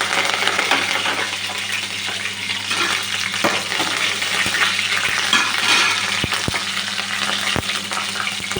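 A spoon of mustard seeds and curry leaves spluttering in hot oil for a fish curry, a loud dense sizzle with sharp pops and crackles, several stirring clicks toward the end.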